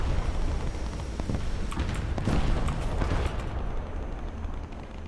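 Rumbling gunfire and explosions hit an M1-series tank in a war video game, with dense booming impacts and crackling bursts that swell and fade in close succession over a continuous low roar.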